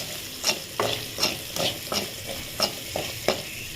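A spoon stirs a sizzling tempering with asafoetida in a pan for radish sambar, making regular scraping strokes about every third of a second over a continuous fry hiss.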